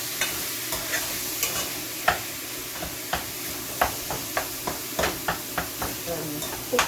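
Meat browning in a pan for homemade baked penne pasta, with a steady sizzle and frying hiss under repeated sharp clicks and scrapes of stirring, close and fairly loud throughout.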